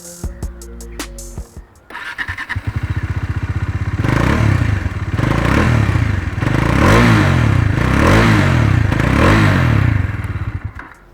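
A Bajaj Dominar 400 motorcycle starts from a loud idle thump, then revs repeatedly in a rhythmic series of rising and falling bursts of exhaust, close and strong.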